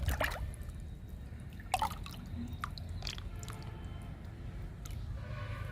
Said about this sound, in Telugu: ఈ మొక్కకి ఇస్తున్నా లిక్విడ్.